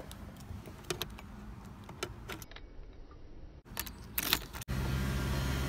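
Jingling keys and a few clicks, then a manual-transmission car engine turns over and catches, settling into a steady running rumble at the end.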